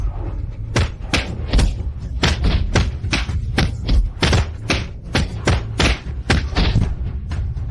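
A rapid series of heavy punches landing on someone, about a dozen dull thuds in a fast, uneven rhythm, close and loud, with no talking.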